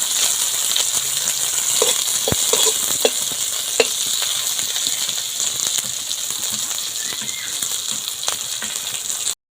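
Onions frying in a pan alongside fried fish, a loud continuous sizzle with scattered crackles and the odd clink of a utensil, no voices.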